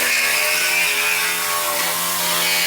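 A mini saw cuts a hole for a pipe in a Nissan 300zx with a KA24de engine, giving a loud, steady buzzing whine that runs without a break and up close.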